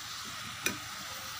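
Grated radish sautés quietly in a pan for chutney, giving a soft, steady, faint sizzle broken by a single light utensil tap midway.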